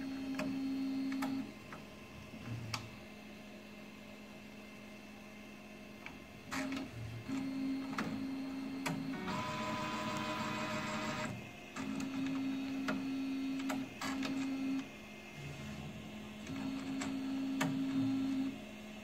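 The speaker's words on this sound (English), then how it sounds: "Pump ink." A Focus Vocano-Jet Pro UV flatbed phone case printer pumps ink, giving a steady mechanical hum broken by repeated tonal beeps and clicks, with a louder whirring burst midway; quiet and close, no talking.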